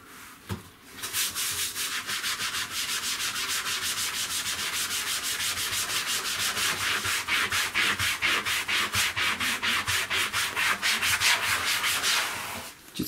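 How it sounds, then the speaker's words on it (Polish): Mouse pad wetted and lathered with dish soap being scrubbed, a steady fast run of rough rasping strokes that grows louder and more sharply rhythmic toward the end, close and alone without talk. "Szorujemy."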